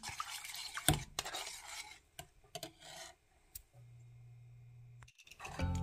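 Peanut butter being stirred into fresh lumpia sauce in a pot or bowl, giving scraping, rasping strokes near and fairly quiet, with pauses and a brief steady hum in the middle.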